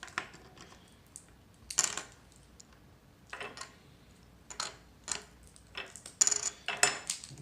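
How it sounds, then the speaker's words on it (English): Game chips from a board game unboxing are handled in a quiet room, giving faint, scattered clicks and light clattering taps in short bursts. "These are the chips."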